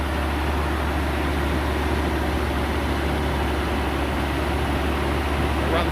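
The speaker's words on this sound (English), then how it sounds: "Told you it started first time. Pretty fast idle" A Nissan Skyline R34 GTT engine idles fast and steady, a continuous close-up rumble with a strong low hum that holds level throughout without talk.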